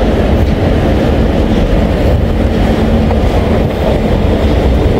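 Loud, close rumbling of a train rolling past, with dense low-frequency roar and rhythmic rattling of wagons throughout.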